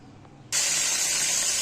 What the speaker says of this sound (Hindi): पैन में हमने ऑयल ले लिया। अब इसमें टमाटर शामिल करेंगे।